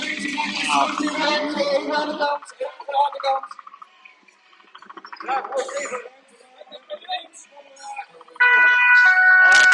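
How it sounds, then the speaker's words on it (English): An ambulance siren wails over the last second or so, loud and steady with a high tone, after stretches of people talking and street noise at the Zundert flower parade. "Another ambulance."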